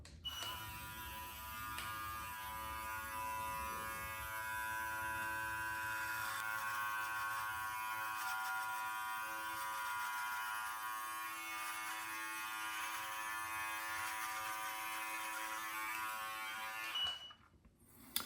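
An electric trimmer runs continuously close by while trimming a beard neckline, giving a steady buzzing hum with small shifts as it moves across the skin. The trimmer cuts off abruptly near the end.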